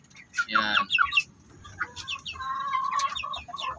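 Darag native chickens clucking in a farm pen, a loud burst of clucks followed by softer, scattered clucking calls, close by with no talk.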